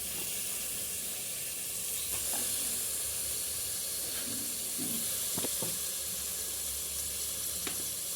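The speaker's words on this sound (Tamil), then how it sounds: "மசாலாலாம் எண்ணெயில் நல்லா வதங்கிருச்சு. இப்போ வந்து சிக்கனை போட்டுடணும்." Chicken goes into masala frying in oil for a chicken kurma, with a steady hiss and sizzle throughout and a few sharp crackles and pops near and in the middle of the clip.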